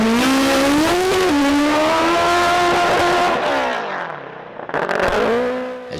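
A nitro-fuelled Suzuki Top Fuel drag racing motorcycle roars loudly past at a drag strip, its engine note rising then dropping away as it accelerates down the track, followed by a brief second burst of engine noise.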